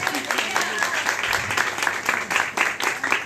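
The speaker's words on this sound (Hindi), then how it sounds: "ताली तो बजाओ कम से कम" An audience at a Christian sermon gathering claps continuously, a dense patter of many hands, with a voice speaking over the applause.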